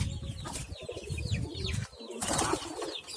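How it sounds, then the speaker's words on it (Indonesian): Pigeons in flight training flap and flutter close by, with bursts of wingbeats over soft cooing and clucking bird calls, plus a sharp rustling flurry midway. "Naik turunin burung merpati"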